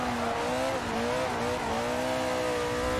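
A historic 1960s GT race car slides sideways in the Assetto Corsa video game, its engine droning loudly and steadily with shifting pitch while the tires scrub and squeal throughout.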